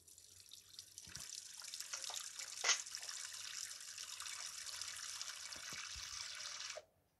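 Steady running water from a tap into a sink while someone washes their face, a continuous hiss lasting several seconds with a brief splash in the middle before it cuts off abruptly.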